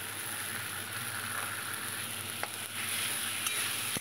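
Ginger paste is added to a pan of pointed gourd frying in hot oil, producing a loud, steady hiss and crackle with a few sharp pops and clicks throughout.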